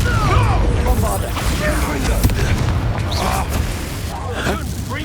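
Bombarda spell blasts in the video game Hogwarts Legacy during combat. Booming impacts and crashing bursts are layered over spell effects, with a voice speaking amid the action.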